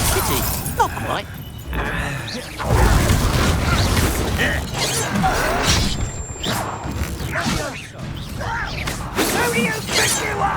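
A Depulso force-push spell cast in a Hogwarts Legacy duel, heard as loud crashing, shattering and mechanical clatter amid busy combat effects, with voices speaking over parts of it.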